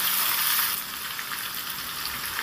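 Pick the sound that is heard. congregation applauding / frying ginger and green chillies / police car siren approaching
frying ginger and green chillies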